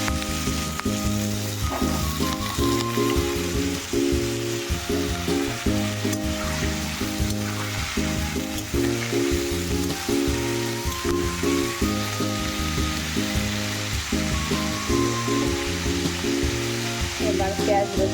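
Food fries in hot oil for a Bengali dish, making a loud, continuous sizzle close by that lasts the whole time, with a tonal, musical-sounding layer beneath it.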